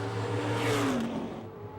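A race car engine revving at Pennsylvania Motor Speedway, a dirt-track style oval, heard as a distant, droning whine that rises and falls in pitch over a steady low rumble.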